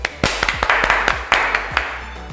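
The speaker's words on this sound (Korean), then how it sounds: "박수 한번 쳐주세요." A small group in a gym claps after a 100 kg one-rep-max lift, giving a run of sharp, close, irregular claps that starts abruptly and thins out over a couple of seconds.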